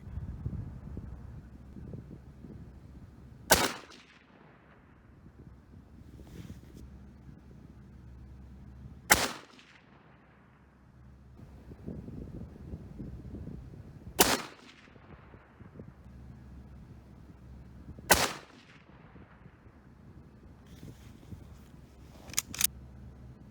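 Mosin Nagant rifle with a Timney trigger fires four sharp, loud shots at a target, spaced roughly five seconds apart, each with a short ringing tail over outdoor wind noise.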